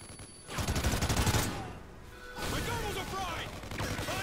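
Dense gunfire bursts from the video game Call of Duty: Ghosts, loud and rapid through the middle and continuing in steady volleys to the end, with no talking.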